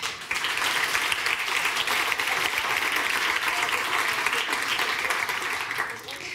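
Dense, steady applause from an audience at a science communication award ceremony, honouring Ingo Knopf and his team, sustained at even loudness throughout before easing slightly at the end.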